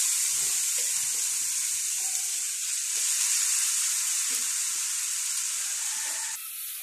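Grated carrots sizzle in a pan with green cardamom pods, a steady bright hiss of frying held close and continuous, with faint stirring scrapes underneath and no talk.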